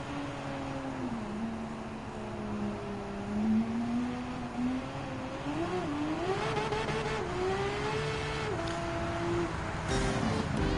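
Type 992 2022 Porsche 911 GT3 RS in Gran Turismo 7, engine droning and revving with rising and falling pitch as it shifts gears, steady and fairly close throughout.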